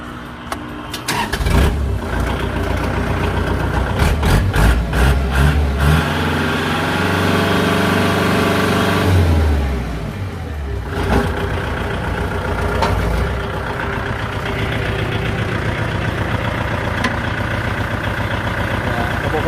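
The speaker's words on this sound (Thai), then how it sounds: "เดี๋ยวเราลองมาสตาร์ทเครื่องยนต์ดูนะครับ" An L5018 diesel tractor engine cranks and starts with a clattering roar, revs up and down, then settles into a steady, loud idle nearby.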